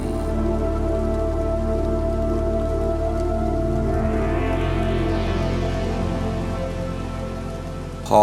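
Steady rain falls continuously and loudly throughout, a dense even patter with faint sustained tones underneath.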